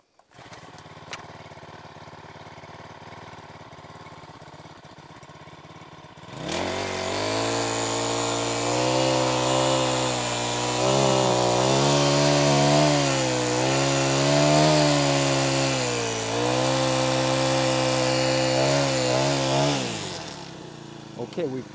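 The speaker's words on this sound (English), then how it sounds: "I can tilt this motor 180 degrees and it won't shut off" A Portable Winch PCW 4000 gas motor starts up after a quieter stretch and runs loud and steady for about fourteen seconds, its pitch wavering under load while winching out a snag, before cutting off.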